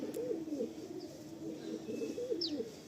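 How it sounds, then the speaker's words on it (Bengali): Malwai pigeons, a Punjabi breed, coo in repeated low rolling phrases at close range, steady and alone, with a faint high chirp or two in the background. "মালবাই, পাঞ্জাবি মালবাই"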